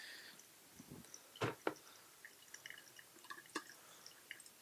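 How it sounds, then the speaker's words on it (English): Hot water drips through a wetted Hario V60 paper filter at home, a quiet scatter of soft, irregular drops and small splashes with brief pauses between them, close and faint in a still room. "I'm just gonna wet the paper just to take the bleach out of the paper"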